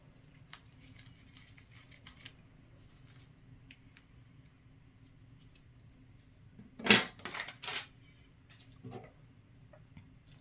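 Scissors trim embroidery fabric near a shirt collar, making a few quiet snips and clicks, with one sharper cluster of cuts midway, against a near-silent background.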